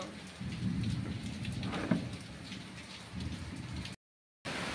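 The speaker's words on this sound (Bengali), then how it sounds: "এরকম বৃষ্টি হচ্ছে দেখো একবার" Heavy rain pours steadily in a dense, even hiss, drumming on surfaces nearby, with a brief moment of silence near the end.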